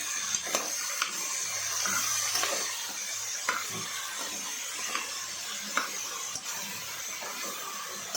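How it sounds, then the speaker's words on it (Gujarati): Onions and potatoes stirred in hot spiced oil with cumin in a pan, giving a steady soft sizzle with scraping stir strokes and occasional clicks, moderately close and alone. "તેમાં આપણે ડુંગળી અને બટાકા નાખીશું આપણે આ રીતે તેને હલાવી કાઢીશું"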